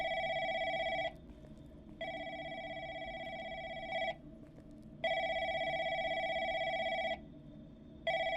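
In the horror game Crisis at Call Center, a phone rings in long steady electronic tones, about two seconds each with short gaps between, loud and clear over a low background hum.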